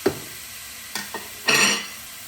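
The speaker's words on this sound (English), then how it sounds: "at the same time I add the grated beetroot" Grated beetroot dropped into a pan of sizzling fennel: a few soft stirring knocks followed by a brief burst of hissing sizzle, close by with no talk.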